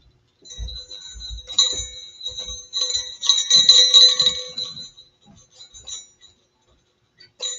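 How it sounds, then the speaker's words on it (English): A jingle bell with its clacker on a screenprinted fabric mini banner, jingling in light, bright tinkling bursts that swell and fade over several seconds, close and fairly soft, with some handling knocks. "if you don't really like the jingle bell sound, then by all means you can glue the clacker down"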